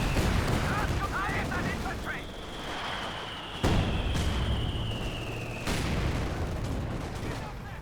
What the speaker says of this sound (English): You really hear the British mortar pit there just opening up in the center.